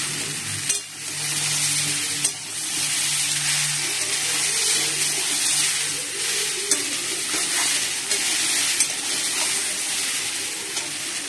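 Pumpkin and potato curry sizzles and fries steadily in a pan, with occasional stirring scrapes and soft watery bubbling, close and continuous without talk.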